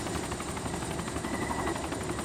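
A helicopter in a video game drones steadily, its rotor chop and engine whine filling the scene at a constant, fairly close level, with no speech.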